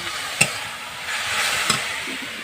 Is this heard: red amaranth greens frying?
yes